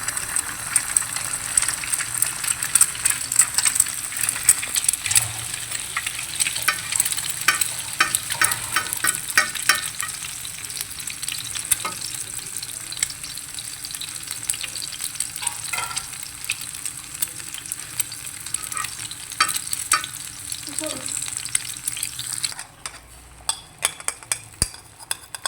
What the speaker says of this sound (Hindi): और यहाँ पे हम कर रहे थे अंडा फ्राई।